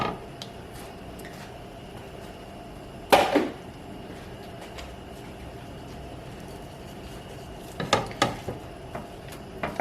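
One pound of ground beef cooks in a single pot over a high flame, with a low steady sizzle broken by two clattering bursts of stirring or scraping, close up and with no talking.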